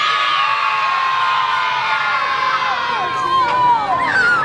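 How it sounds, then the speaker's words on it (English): Girls at a tenth birthday celebration shout and cheer together loudly as a crowd, with sustained high-pitched voices and whoops filling the whole stretch. "They said girls can shout louder than boys."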